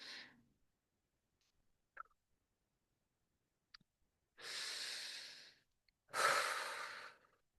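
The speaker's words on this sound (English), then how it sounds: "Deep breath in." A slow, deep inhalation followed by a long exhale and then a second full breath, close and quiet, with faint small mouth sounds in between during a guided energy-clearing meditation.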